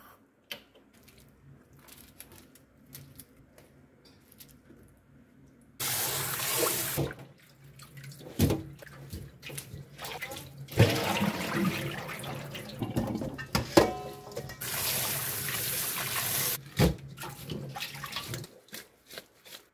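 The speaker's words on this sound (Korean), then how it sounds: "이제 이렇게 다 헹궈줬으니 물이 빠지도록 잠시 두고요." Blanched broccoli for kimchi is rinsed under a kitchen tap. Water gushes loudly into a sink in several bursts, with quieter handling and dripping between them.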